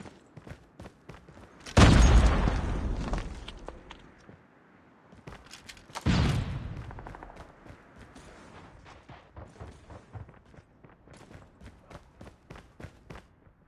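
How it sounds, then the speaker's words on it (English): Two loud grenade blasts in Call of Duty Mobile, each a sharp boom with a decaying tail, spaced a few seconds apart, amid scattered footsteps and light gunfire. "Grenade out."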